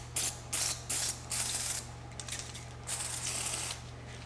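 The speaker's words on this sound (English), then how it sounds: "If you do have some penetration fluid, I'm using liquid wrench, it's a good idea to put a little bit on there beforehand" Liquid Wrench penetrating fluid sprayed onto the rear wiper arm nut of a Grand Caravan, as several short, close hissing bursts in a quick series, followed by softer, longer sprays, with no talking.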